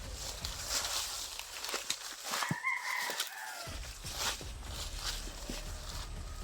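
A rooster crows once at moderate distance, a rising then falling call, amid rustling, clucking and faint footsteps outdoors.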